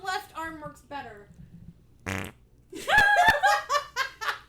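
A sharp, buzzy fart bursts out briefly amid people talking, then is followed by loud laughter and giggling.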